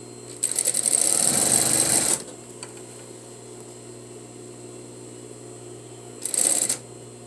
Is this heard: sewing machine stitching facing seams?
yes